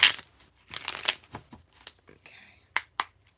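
Tarot cards being shuffled in the hand, a series of short papery riffles and snaps, close and fairly loud, with no talk during them.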